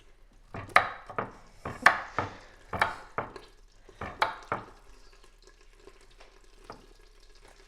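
Knife chopping an onion on a cutting board for tomato basil soup: a run of crisp, fairly even chops, close and clear, then a few lighter cuts and a quiet pause, with no talking.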